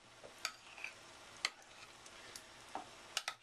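Chicken pieces being mixed by hand in a marinade, faint soft wet squelches and a few light clicks against the bowl at irregular intervals, quiet and close.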